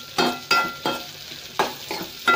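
Chana dal, curry leaves and onion sautéing in hot oil, with loud rhythmic spoon strokes scraping the pan every half second or so over a steady sizzle, close up with no voices.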